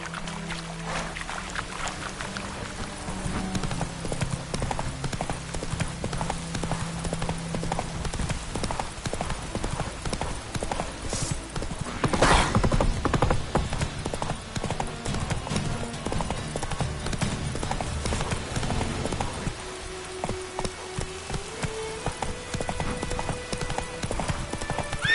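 A horse gallops in The Witcher 3, its hooves clip-clopping steadily and up close for the whole stretch, with game sounds and music layered underneath.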